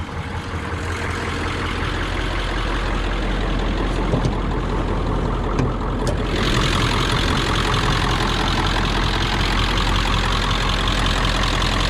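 A 2000 Ford F350 diesel dually pickup with a manual transmission idling close by, a steady low diesel rumble with a knocking clatter that holds evenly throughout with no talking.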